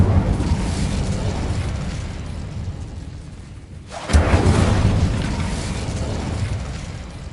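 Fire spell cast in the Hogwarts Legacy video game: a steady roaring rush of flame and effects fades slightly, cuts out briefly, then bursts back with a loud whoosh that slowly settles.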